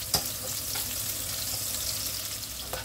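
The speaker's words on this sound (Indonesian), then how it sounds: "Sekarang masukkan bawang merah dan bawang putihnya. Kita tumis hingga layu dan berbau harum." Shallots and garlic stir-fried in a pan, a steady close sizzle of frying with a few faint clicks of stirring and no voices.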